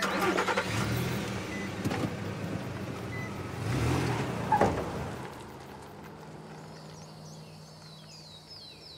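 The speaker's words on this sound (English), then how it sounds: "Oh! A car!" A company car's engine cranks and turns over, rumbling and revving briefly up close before settling to a quieter idle.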